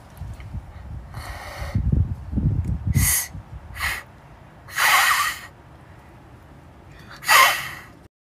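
A person imitates a cat's hiss with several sharp, breathy bursts spaced a second or two apart, over a low rumbling background.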